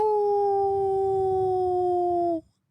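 A person mimics a werewolf, holding one long, loud, steady howl close to the mic that slides slightly downward before cutting off abruptly, with no other sound around it.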